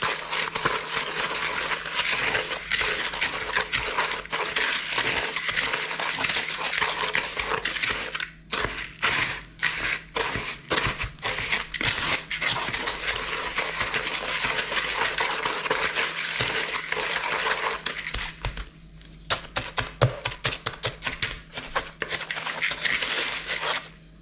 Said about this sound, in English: So I just like to mix the cocoa in nice and even with a wooden spoon